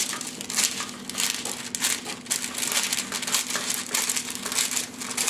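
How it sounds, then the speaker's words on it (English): Crinkly wax paper rustles and crackles in quick, uneven bursts, close up, as a sheet is handled and snipped with regular scissors. "taking the wax paper and just with a regular pair of scissors, cutting it out"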